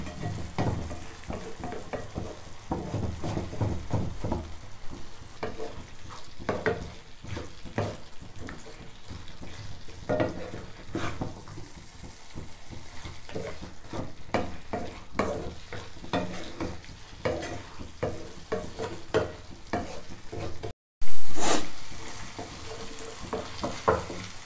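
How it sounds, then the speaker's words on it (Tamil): Cooked mutton tossed through a drying masala for mutton chukka, with a spoon scraping and clattering against the pan over a low sizzle, close by, broken by a brief dropout near the end, with no talk. "மசாலா நல்லா ட்ரை ஆகிற வரைக்கும் நம்ம மிக்ஸ் பண்ணி விட்டுக்குவோங்க"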